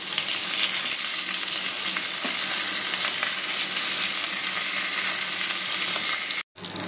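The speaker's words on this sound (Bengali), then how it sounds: "আমি তরকারিটা করার জন্য প্রথমে মাছের মাথাটাকে তেলের মধ্যে দিয়ে দিয়েছি, একটু ভেজে নেব।" A fish head fries in hot oil with a loud, dense, continuous crackle and sizzle, close up, which cuts out for a moment just before the end.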